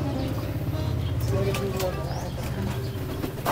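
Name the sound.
pigeon cooing in loft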